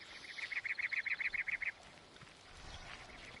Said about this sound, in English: we've got some birds over there.